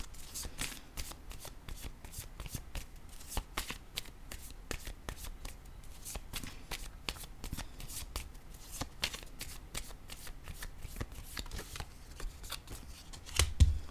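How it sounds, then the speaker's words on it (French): Tarot-style cards are handled, shuffled and laid down in a reading, with a steady run of soft flicking and tapping clicks close up, continuing for many seconds at low volume. "Je vais déposer une autre carte pour cette zone."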